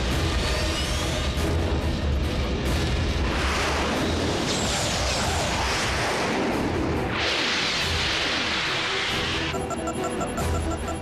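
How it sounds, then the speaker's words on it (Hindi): A missile attack in a Transformers Prime cartoon brings loud, continuous booming explosions and roaring blasts, one heavy burst after another, with a whooshing swell midway and a faint beeping tone near the end. "मिसाइल से हमला"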